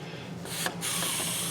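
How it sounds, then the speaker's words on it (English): Two close hissing bursts of aerosol penetrating oil sprayed into crusty holes on a 2000 Chevy Silverado 1500 4x4 rear brake, a short one followed by a longer steady spray. "I shoot some penetrating oil up in there."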